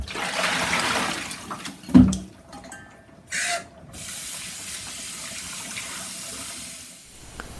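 Water runs from a tap over a whole chicken in a sink, a steady close splashing hiss. A sharp knock partway through and a brief rush of flow break it up.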